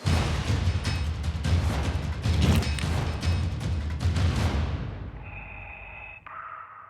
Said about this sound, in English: Is that you breathing?